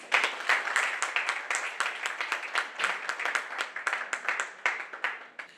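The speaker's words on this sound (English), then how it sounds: "Karibu sana Myra, round of applause for her, please." An audience at a launch event in Nairobi claps in a sustained round of applause, a dense patter of many hands that swells and gradually thins out, with no speech over it.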